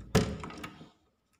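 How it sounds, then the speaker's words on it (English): A house door is opened with a single solid thunk followed by a brief rattle and a fading tail, heard close by with no talk. "let's open the door"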